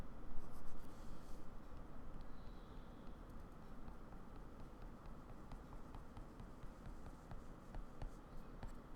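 A pen or marker scratches steadily across paper while drawing a horizontal asymptote on a function graph, a continuous soft scraping heard close up over faint background hum.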